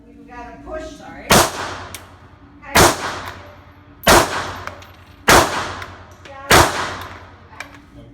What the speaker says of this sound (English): we're going to put 5 shots downrange